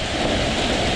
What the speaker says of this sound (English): That is what a tropical downpour looks like.